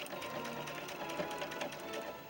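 A sewing machine runs steadily as it stitches the curved neck seam of a doll's dress shirt, a fast even whirring needle rhythm held close and loud throughout with no talking.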